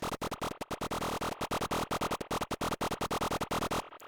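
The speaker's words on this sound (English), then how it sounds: "here we have a really basic FM patch from the virus emulation" A raw, buzzy FM synth tone from an Access Virus emulation on a DSP56300 plays in rapid, choppy pulses, bright and harsh, stopping abruptly at the end.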